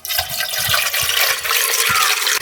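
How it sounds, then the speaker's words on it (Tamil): Water poured steadily into ragi flour in a village kitchen, a continuous close splashing and gurgling stream with no speech. "தண்ணி சேர்த்துக்கலாம்"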